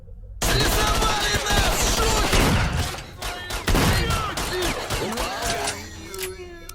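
Heavy gunfire erupts in S.T.A.L.K.E.R.: Shadow of Chernobyl, a loud sustained fusillade of automatic bursts and booms in a firefight with bandits, continuing dense for several seconds before thinning slightly.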